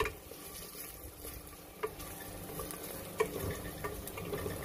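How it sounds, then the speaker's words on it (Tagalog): Garlic browning in a frying pan as the first step of chicken tinola with sayote, giving a steady low sizzle with occasional soft stirring taps. "Hintayin natin maging brown yung bawang."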